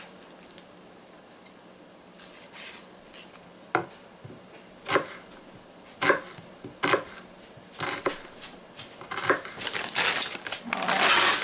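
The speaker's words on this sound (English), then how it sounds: "But just chop it really fine." A knife chops a small onion finely on a board for a broccoli casserole: sparse, irregular taps that cluster into quicker, louder cutting toward the end, close up, quiet in between, with no speech.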